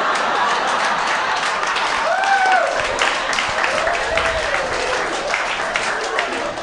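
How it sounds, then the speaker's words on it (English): A comedy club audience claps and cheers loudly after a stand-up punchline, a dense, continuous roar of applause with a few whoops rising over it. "See, fellas, they're clapping louder than us."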